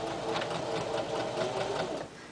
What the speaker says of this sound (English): Lower your presser foot, and you'll stitch around the edges of the patch.